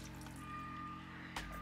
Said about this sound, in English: I will pour in the same amount of water